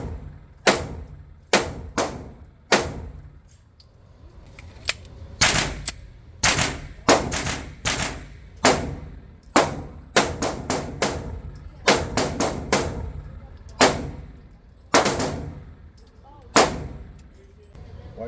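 Pistol gunshots from a ported CZ P-10 C and S&W M&P Compact with NATO ammunition at a range, sharp, loud reports fired in irregular single shots and quick clusters.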